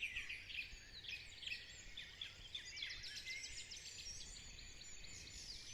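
Many birds sing and chirp continuously in the distance, a busy overlapping chorus of quick high trills, soft and steady with no voices.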